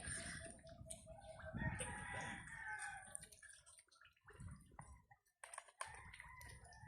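A rooster crows outdoors after rain, its call rising and falling over steady ambient noise, with a second crow later and tapping or clicking sounds mixed in.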